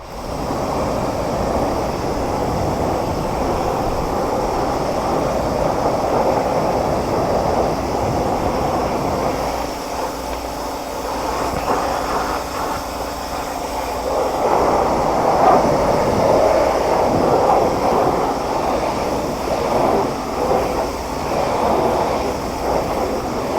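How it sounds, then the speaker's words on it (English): A pressure-washer spray rinses degreaser off dirty track car wheels in a steady, loud hissing wash that runs throughout, shifting in tone as the spray moves, with no talking. "I need to rinse this off, get the degreaser off of there."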